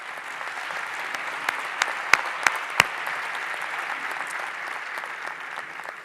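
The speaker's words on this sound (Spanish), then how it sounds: "Un aplauso para Santiago." A small audience applauds after a speaker at a talk on innovation, a steady, moderately faint patter of clapping with a few sharper individual claps standing out partway through.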